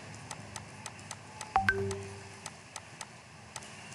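A mobile phone goes off during a classroom geometry lesson: a brief cluster of short electronic tones and beeps in the middle, over faint room noise and soft ticking, with no talk.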